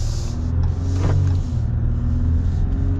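A 2023 Ram 1500 Laramie Night Edition EcoDiesel pickup pulling away: steady low diesel engine rumble with a brief rise as it accelerates, heard from inside the cab, loud and even.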